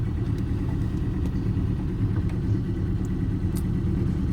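1985 Toyota MR2 AW11 engine on a first drive after radiator welding, a steady mid-pitched rumbling hum heard from inside the car, constant in level for a few seconds.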